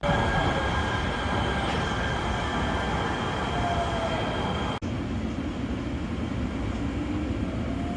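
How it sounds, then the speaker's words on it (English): Los Angeles Metro C Line train in motion, a steady loud rumble of wheels and car noise with a faint high squeal, continuous throughout with a brief dip partway. "Once you get on the train, it's going to be 4 stops and it will take 10 minutes to get to your next destination."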